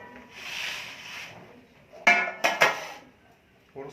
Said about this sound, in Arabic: نجيب صينيه عندي